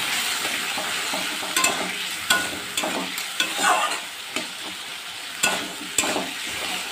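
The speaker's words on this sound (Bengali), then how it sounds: "মশলাটা একটু ভালোভাবে কষিয়ে নেব।" A spice paste with turmeric and cumin fries in a pan, a steady sizzle broken by repeated sharp scrapes and clacks of a spatula stirring, close and fairly loud, with no voices.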